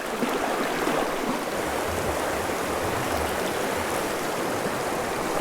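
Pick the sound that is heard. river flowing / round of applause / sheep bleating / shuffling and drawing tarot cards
river flowing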